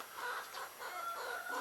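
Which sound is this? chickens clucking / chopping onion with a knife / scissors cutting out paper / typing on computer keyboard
chickens clucking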